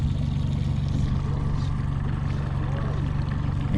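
Fishing boat outboard motor running in gear while trolling crankbaits for walleyes over weeds, a steady close, loud low drone with a constant throbbing pulse throughout.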